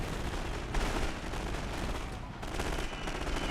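Rifle infantry firing on German positions in a WW1 Total War battle game, a dense, continuous crackle of distant rifle and machine-gun fire rolling on without pause.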